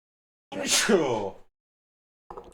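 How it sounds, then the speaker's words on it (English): A single loud, close sneeze from a man at his microphone: a sharp breathy burst, then a short vocal sound after a pause. "Oh, I'm going to sneeze."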